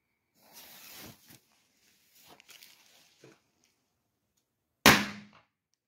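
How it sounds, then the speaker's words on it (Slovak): A Crash firecracker goes off with a single sharp, loud bang and a brief crackling decay, preceded by a few seconds of quiet speech. "tu máme petardu Crash. Prvá petarda Crash."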